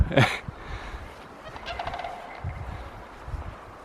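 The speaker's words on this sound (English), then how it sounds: "just in front of me there's a Sandhill Crane" Sandhill cranes call from close range in a Northern Ontario wilderness, opening with a loud, rattling bugle followed by fainter broken calls and rustling.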